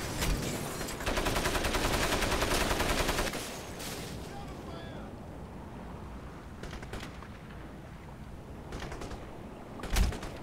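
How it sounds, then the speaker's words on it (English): Gunfire in the video game Crysis Warhead, a dense burst of rapid automatic shots for a couple of seconds, then scattered fainter single shots and a sharper report near the end, fairly quiet overall. "Who's shooting at me?"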